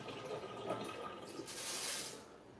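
Rice rinse water is poured down a kitchen sink, a soft close splash and gurgle that swells in the second half before fading.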